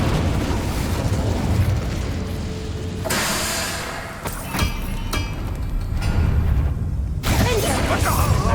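In Hogwarts Legacy, the Incendio fire spell is cast amid sustained combat: loud, roaring bursts of flame and crackling blasts flare up repeatedly over a dense, continuous rumble.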